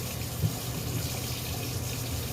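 Tap water running into a kitchen sink while pasta is rinsed, a steady close gushing stream with a few faint clinks.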